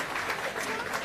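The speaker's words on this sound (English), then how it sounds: "Big round of applause" Audience applause at the NEWi Awards ceremony in Newcastle, a brief burst of dense, even clapping from many hands, loud and close, with no voices standing out.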